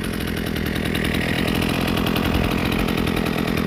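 A Husqvarna 323L string trimmer engine idles steadily after carburetor adjustment, with a constant buzzing small two-stroke drone that stays close and even throughout, with no voices.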